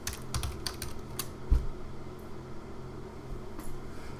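Quiet typing on a computer keyboard, a short run of soft clicking keystrokes followed by a lone tap, set against a steady hum of fan noise.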